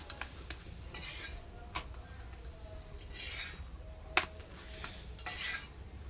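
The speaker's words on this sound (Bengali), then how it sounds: "বাকিগুলো আমি এইভাবে ভেজে নিচ্ছি" Dahi paratha, a yogurt flatbread, frying in a pan, with a faint steady sizzle broken by occasional scraping and turning with a spatula and one sharper clink, quiet and close, with no voices.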